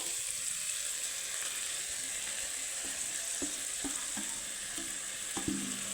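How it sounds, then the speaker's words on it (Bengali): Grated boiled potato frying with spices in a pan for a bean dish: a constant close sizzle, with a run of rhythmic spatula scrapes and taps in the second half. "দিয়ে দিলাম আলু করা সেদ্ধ করা আলু গ্রেড করে রাখে রেখেছিলাম তা আলুর সাথে আমি সুন্দর করে মশলাটাকে ভালোভাবে কষিয়ে নিব"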